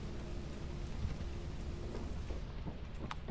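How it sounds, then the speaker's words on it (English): Steady rain falls across a stormy level in the video game Lethal Company, a continuous wash of hiss and patter at moderate loudness with no voices over it. "The place is rainy, so watch out for mud."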